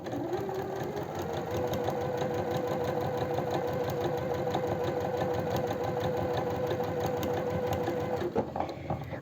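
A sewing machine stitches a skirt hem with a 4 mm stitch length, running steadily and close for about eight seconds before stopping abruptly.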